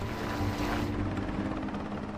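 A Black Hawk twin-turbine army helicopter drones steadily and loudly, its rotor and engine hum continuous throughout a short stretch with no voices.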